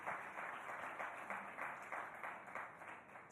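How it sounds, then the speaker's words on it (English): Dense, steady applause from a large audience at the Sportstar Aces Awards 2019 ceremony, a continuous crackle of many hands clapping with slight surges, sustained evenly throughout without a break. "And the winner in that category, ladies and gentlemen, again, a big round of applause."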